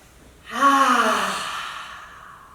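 One loud, drawn-out lion-breath exhale pushed out through an open mouth during chair yoga, a voiced roaring exhale that starts strong and slowly fades away.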